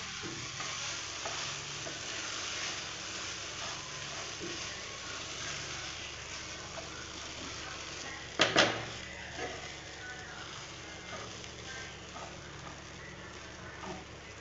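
Soaked leftover idli is stirred into upma in a pan, giving a steady soft sizzle and scraping under a faint hiss, with one brief louder clatter of a utensil against the pan midway.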